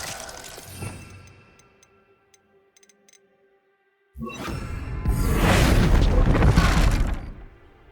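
Bombarda and Confringo explosion spells in Hogwarts Legacy: a faint whoosh and small ticking sounds, a brief near-silence, then a sudden heavy booming blast that swells into a loud, sustained roaring rumble before fading at the end.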